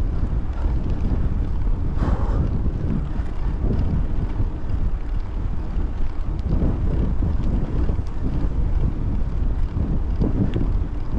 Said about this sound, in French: et du vent